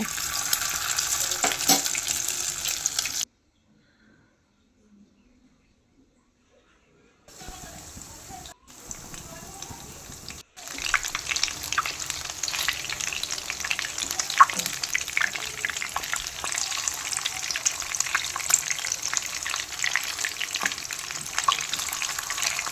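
Marinated chicken pieces frying in hot oil, a steady crackling sizzle with a few seconds of near silence, then the hiss returning and continuing strongly.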